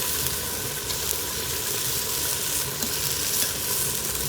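Ginger garlic paste fries for mutton paya curry, a dense, loud, continuous sizzle with faint stirring, no talking.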